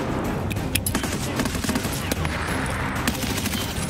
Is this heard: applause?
no